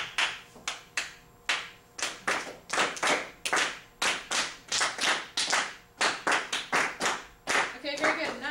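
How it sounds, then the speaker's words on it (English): A class in an introductory music lesson claps back a rhythm together, the sharp group claps falling in quick repeated patterns with short pauses between phrases, close and fairly loud. "can everyone clap that rhythm for me that I was playing?"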